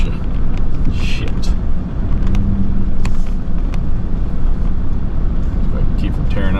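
A truck crawls over a rough, rocky trail near a waterfall, weaving around boulders, its engine rumbling loud and steady with bumps and jolts throughout while someone talks over it.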